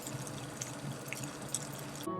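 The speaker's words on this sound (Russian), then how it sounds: "Или же как кипит вода в кастрюле на вашей кухне." Water boiling in a pot in a kitchen, heard as a continuous bubbling wash with scattered small pops and blips, moderately close and alone.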